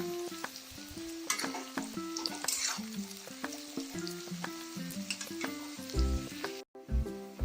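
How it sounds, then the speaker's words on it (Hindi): Onions sauté in a pan until light brown for a chicken dish, sizzling steadily with occasional stirring scrapes over tonal background music, then cutting briefly silent near the end. "एबे पियाज लाइट ब्राउन कलर हबा जाए ताको साउटे करिबा।"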